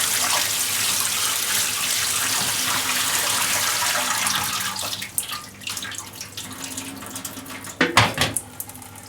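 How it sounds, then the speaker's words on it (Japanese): Hot water runs steadily from a tap over bacon in a kitchen sink, a constant close rush that breaks into splashy, uneven bursts toward the end as the bacon is moved under the stream. "ベーコンはざっとお湯に通します。"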